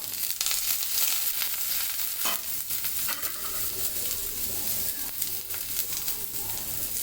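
Onions fry in a pan for a gourd-leaf mash, giving a steady close sizzle throughout with a few scraping stirs on top.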